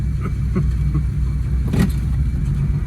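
A 1979 Volare wagon, left sitting in a junkyard for four years, rolls away with a loud, steady low engine rumble close by and a few faint knocks.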